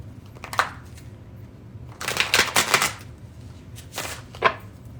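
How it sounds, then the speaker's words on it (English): A deck of tarot cards is shuffled in a few short riffling bursts separated by quiet pauses, close and crisp. "I'm going to move these to the side real quick so I can get a really good shuffle on this."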